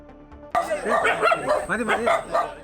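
Several stray dogs bark and yelp close by in a residential area of Kottarakkara, Kollam, overlapping calls starting suddenly and continuing in a busy, uneven chorus.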